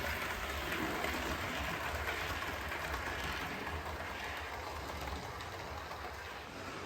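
A model train runs past on a layout street, a faint steady rolling rumble with a soft wheel hiss that slowly fades, no voices.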